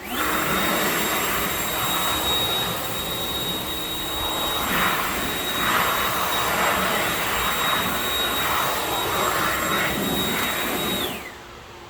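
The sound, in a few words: leaf blower blowing water off car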